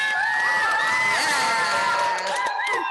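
A circus gala audience cheers and whoops with high excited voices, loud and sustained over a few seconds.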